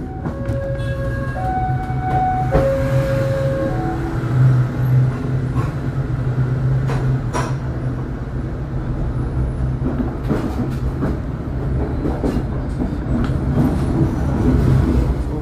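Steady rumble of a train rolling on rails as it approaches Leles station, with rhythmic clatter and a few brief tonal squeals, continuous and fairly loud throughout.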